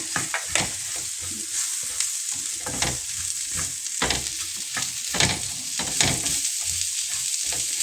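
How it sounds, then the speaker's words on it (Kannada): Ingredients for chicken sukka fry and sizzle in hot oil with steady crackling and repeated scraping stirs of a spoon against the pan, close and fairly loud, with no voices. "ಇದೆಲ್ಲನೂ ಚೆನ್ನಾಗಿ ಎಣ್ಣೆಗೆ ಹುರ್ಕೋಬೇಕು"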